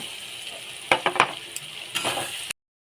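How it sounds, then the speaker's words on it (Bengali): Spice paste with added fried potatoes is stirred in a pan for a fish curry; soft sizzling sits under a few sharp clinks and scrapes of a utensil against the pan. "এবার আমি ভেজে রাখা আলুটা দিয়ে আর একটু কষিয়ে নেব"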